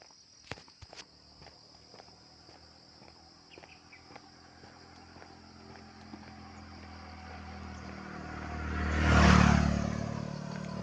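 A motorcycle engine swells from a low background hum to a loud nearby pass around the ninth second, then fades, with scattered faint ticks and insect chirps earlier.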